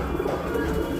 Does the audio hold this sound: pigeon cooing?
yes